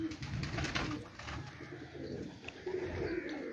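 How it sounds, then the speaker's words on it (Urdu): Soft cooing of pigeons on a rooftop loft, low repeated calls heard faintly at a moderate distance over light background noise. "کاجل کبوتری ہے"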